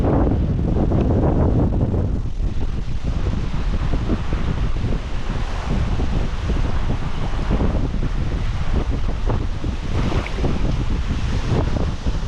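Strong wind buffets a microphone outdoors in Lithuania during metal detecting, a loud continuous roar with gusty low rumble lasting throughout, no speech.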